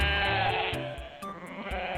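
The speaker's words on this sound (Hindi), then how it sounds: "चीकू बकरा ताकतवर मगर थोड़ा काहिल था।" A goat's bleat sounds over a layer of music, a wavering voiced cry with a rich harmonic stack, loud and close, with a few short repeated pulses.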